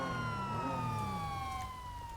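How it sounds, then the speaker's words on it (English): A police car siren wails continuously in the NoPixel GTA roleplay game, its steady tones slowly falling in pitch over low engine rumble, loud and close with no talk. "Lights and sirens."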